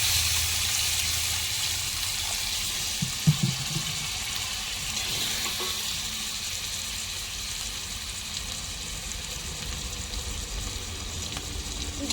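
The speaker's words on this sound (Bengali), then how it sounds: "এর মধ্যে আমি একটু সামান্য পরিমাণ জল অ্যাড করে দেবো" Chicken trimmings, stomach and tomato sizzling in a pan after a little water is added, a steady hiss and bubbling with a couple of soft knocks, no voices.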